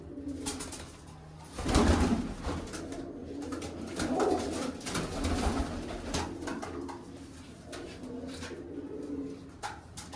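Pigeons coo repeatedly in low, throaty rolls, close by, with rustling and faint background noise between the calls.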